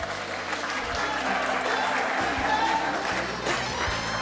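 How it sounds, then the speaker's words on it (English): Steady applause from a crowd at a school graduation ceremony, continuous clapping throughout with a few faint voices mixed in. "We'd like a little more energy in your applause."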